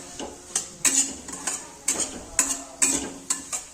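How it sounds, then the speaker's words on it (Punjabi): A spoon scrapes and clinks against a pan as spices are roasted over a low flame for amla pickle, with regular rhythmic strokes repeating roughly every half second, close and clear. "ਹਲਕੀ ਹਲਕੀ ਫਲੇਮ ਦੇ ਉੱਤੇ ਆਪਾਂ ਮਸਾਲੇ ਭੁੰਨਾਂਗੇ ਤਾਂ ਕਿ ਮਸਾਲੇ ਆਪਣੇ ਥੱਲੇ ਨਾ ਲੱਗਣ"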